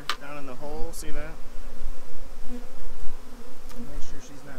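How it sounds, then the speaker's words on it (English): Honeybees from a swarm buzz close by in a steady drone, with a few louder passes and brief bursts of other noise; no talking. "There's still a few bees in here"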